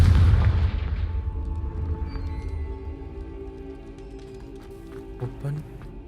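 Confringo fire blast spell in the video game Hogwarts Legacy: a heavy booming blast up front that rumbles and decays over several seconds, with scattered smaller impacts and game effects trailing after.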